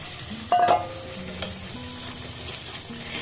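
Whole fried moroli fish tipped into a simmering sour-sweet gravy with no mustard, a brief splash and sizzle followed by soft stirring and low bubbling.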